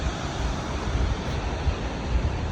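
Water rushes steadily at the Maria Augusta waterfall in Serra da Canastra, Minas Gerais, a dense continuous roar filling the whole stretch, close and loud with no pauses.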